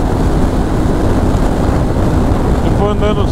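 Heavy, constant wind roar buffeting a rider on a motorcycle on an open highway during a long-distance trip, dense low rumble throughout with a brief voice near the end.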